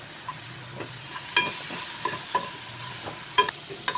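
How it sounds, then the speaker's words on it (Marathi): Tomatoes fry with garlic and ginger in a pan, a soft steady sizzle under scattered scraping stirs of a spoon against the metal, close and quiet. "आता हे टमाटर भाजले त्यामध्ये मी लसूण घालते लसूण आणि आलं"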